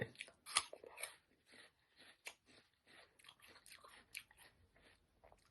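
Crisp snow lotus (yacon) root is bitten and chewed up close, with a sharp crunchy bite followed by a series of quieter irregular crunching chews.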